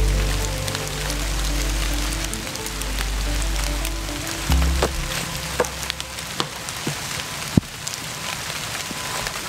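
Steady rain patters and hisses across a disc golf course at Castle Hayne Park, with scattered louder drops and a low rumble underneath, heard alone without voices.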